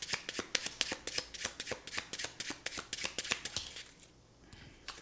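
Tarot cards shuffled and riffled by hand, a rapid run of crisp papery slaps for about four seconds, then a quieter pause, close and clear with no talking.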